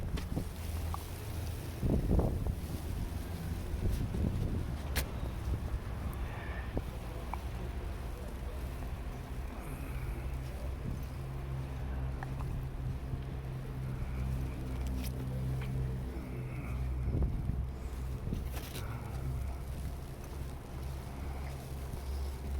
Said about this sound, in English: And it is pretty windy out.